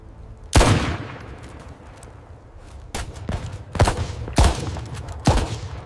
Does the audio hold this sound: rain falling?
no